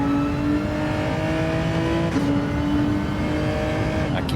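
A race car engine in Gran Turismo 7 drones loudly and steadily, then dips in pitch around a downshift toward second gear, with a brief tire sound near the end.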